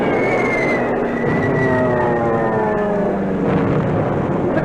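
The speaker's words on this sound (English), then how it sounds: "And here come the dive bombers again" Dive bombers attacking in a wartime radio broadcast, a loud whining engine scream that slowly falls in pitch over a dense rumbling roar, sustained and close.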